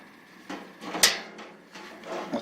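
A drawer on a Craftsman five-drawer rolling tool cabinet slides open and shut, giving a few short metallic rattles and a sharp clack near the middle, close and moderately loud, with no talk.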